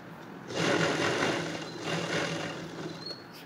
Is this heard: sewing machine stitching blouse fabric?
yes